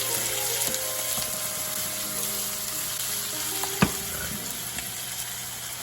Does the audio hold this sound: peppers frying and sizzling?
yes